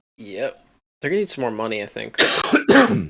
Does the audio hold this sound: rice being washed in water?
no